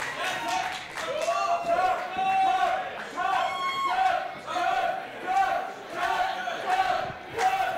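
A lone wrestling fan at an independent show yells and chants rhythmically in repeated bursts, his voice loud and close over a murmuring crowd.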